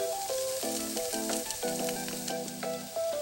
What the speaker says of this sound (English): Next, add in the diced ginger, the minced garlic